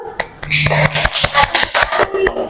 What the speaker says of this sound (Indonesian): Silahkan untuk teman-temannya beri tepuk tangan dulu.